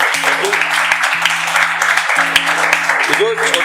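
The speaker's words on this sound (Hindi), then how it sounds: "बाकी एक बार पोएम एंड कहानियां के लिए ढेर सारी तालियां हो जाए।" Audience applause at a Hindi poetry and storytelling stage event, steady dense clapping throughout with sustained tonal music or hum underneath and a brief voice-like sweep near the end.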